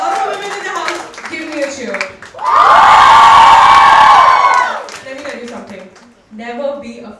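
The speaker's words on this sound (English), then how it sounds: "All the women in the house, give me a cheer." Women in a stand-up comedy audience burst into loud cheering and whooping for about three seconds, with a comedian talking into the microphone before and after.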